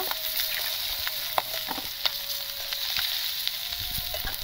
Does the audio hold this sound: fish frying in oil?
yes